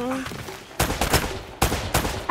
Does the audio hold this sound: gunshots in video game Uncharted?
yes